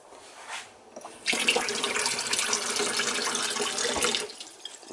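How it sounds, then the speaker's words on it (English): Cold tap water runs steadily into chicken feeding containers for several seconds, splashing and rising in pitch, then shuts off; brief soft clatter before and after. "But basically, I'll fill these with water."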